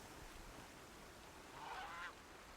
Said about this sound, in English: Geese.